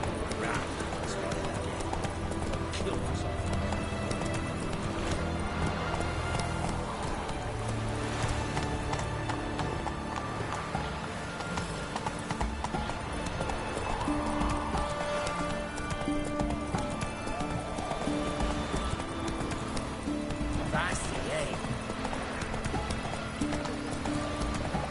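Roach, the horse in The Witcher 3, galloping with steady rapid clip-clop hoofbeats throughout, joined by snorts and a whinny, under game music and a voice speaking.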